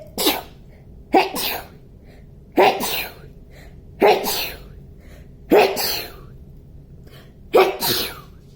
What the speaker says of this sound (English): I don't know how many sneezes that was. That was a lot of sneezes.